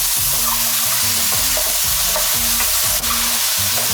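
Peppers fry and sizzle in a pan over high heat, a loud continuous crackle with rhythmic stirring scrapes pulsing through it, no talking.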